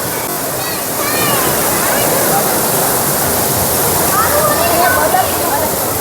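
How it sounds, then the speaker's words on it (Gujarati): Large water cascades at a local fair in Vadodara pour in a loud, continuous rush of falling water, steady and close throughout. "અહીંયા પણ ખૂબ જ મોટા મોટા ઝરણાઓ છે, જોઈ લો"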